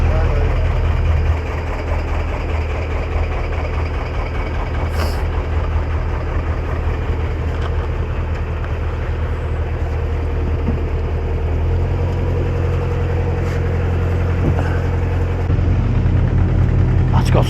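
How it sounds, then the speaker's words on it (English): Heavy truck engine idling near a canal towpath during vegetation cutting, a loud steady low rumble that holds for the whole stretch with faint background sounds. "That's got some engine on it, that thing"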